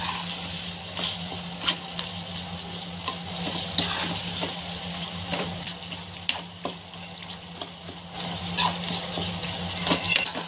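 Tomato masala with chilli powder frying in oil while being stirred, a soft steady sizzle with scattered scraping clicks of the spoon, close and fairly quiet, no talk.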